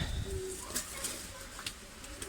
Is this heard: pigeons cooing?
yes